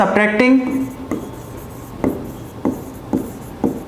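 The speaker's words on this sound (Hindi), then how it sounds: "लिख देंगे यहां पे" During a math lecture, an equation is written with a pen or marker in a series of short rhythmic strokes at about half-second intervals, following a brief burst of speech at the start.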